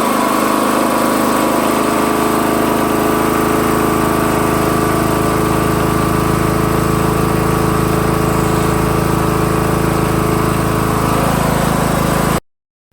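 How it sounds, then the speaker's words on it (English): A tractor engine with a newly replaced carburetor idles steadily and loudly up close, holding an even drone throughout before cutting off abruptly at the end. "I turned the ignition key and the tractor started up right away"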